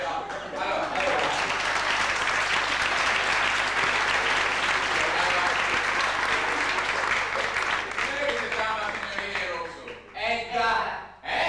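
Audience applause at a comedy stage show, dense continuous clapping from a large crowd that holds steady for most of the stretch, then thins out and fades near the end, where a few voices come through.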